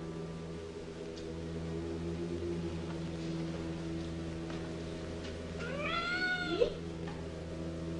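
A cat gives a single drawn-out meow near the end, rising and falling over a steady low hum of background noise.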